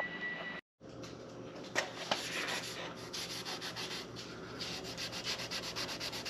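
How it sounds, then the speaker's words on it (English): A greasy trailer axle spindle, caked with crusty old grease, gets a quick polish, giving a continuous close scratchy rubbing and sanding sound with small rhythmic strokes and a brief pause near the start. "Some of this grease was kind of crustified on here, so we'll give her a quick polish."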